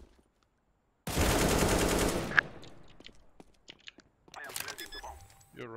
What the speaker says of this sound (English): I just need to buy up and kill them all with this gun.